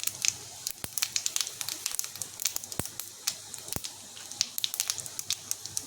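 Pangas fish frying lightly in a pan with cumin, giving soft crackles and sharp spits scattered steadily throughout, quiet and close with no talking.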